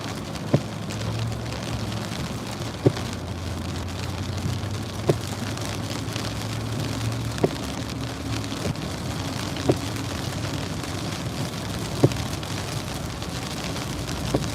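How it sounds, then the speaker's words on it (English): Heavy rain from a storm pours down continuously and close by. A steady wash of noise runs throughout, with sharp clicks or drips recurring every couple of seconds. "We have a storm out here happening right now. Rainstorm."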